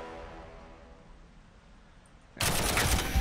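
Heavy bolter fire in Warhammer 40,000 Armageddon bursts in suddenly after a quiet, hissing lull, a loud dense volley of rapid shots at the end.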